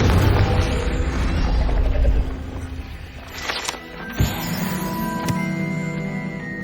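Confringo fire spell exploding in the Hogwarts Legacy game: a loud, rumbling blast that fades into crackling debris, followed by a couple of sharp impact hits and a lingering magical hum.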